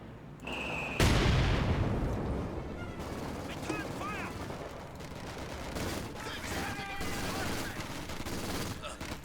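MG42 machine gun suppression fire in Company of Heroes 2 rattles in dense bursts amid other gunfire and battle noise, loudest near the start, with a commentator talking over it.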